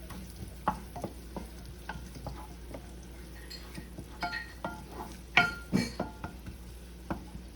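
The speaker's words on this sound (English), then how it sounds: "Add my garlic. Alright, I'm gonna put the onions in." Garlic and onions hit olive oil in a pan, giving a steady low sizzle with scattered clinks and stirring taps of a utensil against the pan, moderately close and with no talking.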